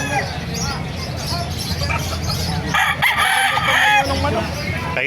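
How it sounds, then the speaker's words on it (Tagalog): A White Kelso gamefowl rooster crows at a roadside fowl market, a loud, drawn-out crow rising over steady crowd babble and nearby talk. "Ganda-ganda tumayo ng manok."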